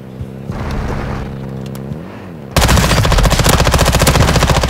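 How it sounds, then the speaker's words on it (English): Incoming gunfire aimed at the player in Call of Duty Modern Warfare starts abruptly after a low rumbling lull, becoming a loud, close, sustained rapid-fire burst with rhythmic pulses. "You are taking effective fire."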